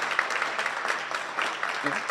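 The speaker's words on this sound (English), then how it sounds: "Let's give them a round of applause." Crowd applause at a holiday community celebration on Baden Street, steady clapping filling the whole short stretch, fairly close and loud, with speech mixed in.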